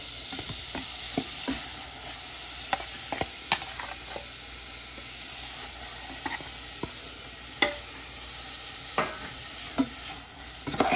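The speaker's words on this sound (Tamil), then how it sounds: "பட்டரில் பொரியட்டும்." Marinated chicken sizzles steadily in butter in a hot pan on medium heat, punctuated by occasional clicks and scrapes of stirring.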